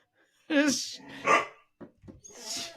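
An Afghan hound growls and barks close by, a few loud rough vocal bursts with short pauses between them.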